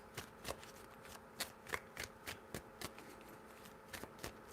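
Cards being shuffled in quick riffling bursts, a dozen or so sharp crackles in an irregular rhythm, close and moderately quiet with no talking.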